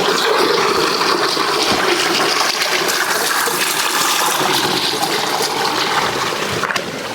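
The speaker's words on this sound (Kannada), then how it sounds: "ನೈಟೆಲ್ಲ ಮಳೆ ಉದಿದೆ ಸದ್ಯಕ್ಕೆ ನೀರು ಬಂದಿದೆ ನೋಡಿ ಹೆಂಗೆ ಹರಿತಾ ಇದೆ" A rainwater stream flows along a mountain trail on Parvathamalai hill after a night of rain, giving a steady, close, rushing gurgle that continues without a break.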